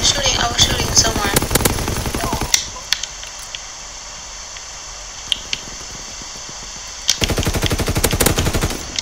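Rapid automatic gunfire in the World War II shooter Call of Duty WW2, loud dense bursts at the start and end with a few isolated shots between, over constant game background noise.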